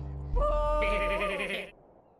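A cartoonish goat in the video game Goat Simulator lets out one loud, drawn-out bleat with a wavering, nasal tone, standing alone and trailing off into quiet.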